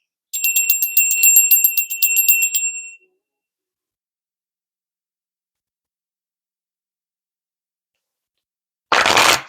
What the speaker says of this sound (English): We're going to ring the bell and then go ahead and get started.